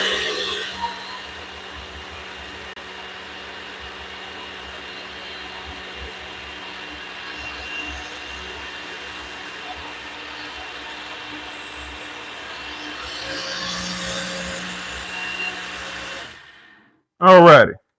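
A kitchen blender whirs steadily as it purees fresh ginger for ginger shots, a loud even drone running for about sixteen seconds before cutting off, followed by a brief clatter.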